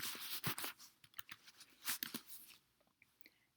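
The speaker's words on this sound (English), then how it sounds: "type the function in one of the boxes on the left-hand side" Someone types a function on a computer keyboard in a quick, uneven flurry of close, crisp key taps that slows to a few scattered presses near the end, with no talk.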